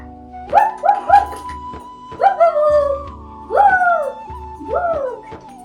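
A toy dog gives five or so squeaky, whining yelps in uneven bursts, each bending up then down in pitch, with a faint steady hum underneath.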